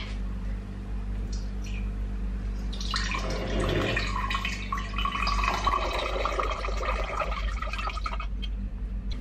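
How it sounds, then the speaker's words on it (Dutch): Coffee mixture strained through cloth into another jug, a steady splashing, trickling pour of liquid that grows busier midway and continues under a constant low background hum. "En dan ga ik dit koffiemengsel overzetten in een groot glas of iets anders van een pot"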